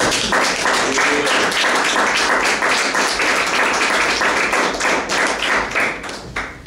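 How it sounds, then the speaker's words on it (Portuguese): A church congregation claps loudly and densely during a sermon, sustained throughout and thinning slightly near the end. "Aplauda o Senhor Jesus, porque é verdade."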